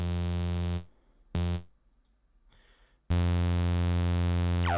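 A Bitwig Polysynth played through a distortion mode in its filter gives loud, buzzing sustained tones that cut off abruptly, return briefly, drop to near silence, then resume strongly.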